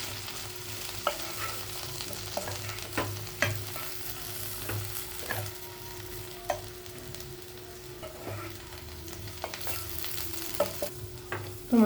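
Half a teaspoon of garam masala heats in a pan for aloo gobhi, with a faint continuous sizzle and scattered light scraping taps from stirring, close but quiet, no voices.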